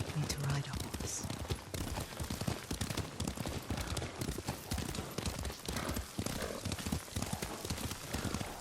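Rhythmic clip-clop of horse hooves at a steady trot in the video game Ghost of Tsushima, fairly close, with some rustling and faint ambient sounds mixed in.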